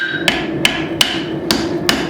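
Five sharp, evenly spaced hammer blows ring out on hot steel as the eye of a forged tomahawk is shaped around a drift, each strike loud and close with a bright metallic ring.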